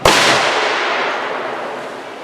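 A Civil War cannon, set off with a friction primer at a heritage day by a waterfall, fires once in a single sharp, loud blast whose rumbling echo slowly fades outdoors.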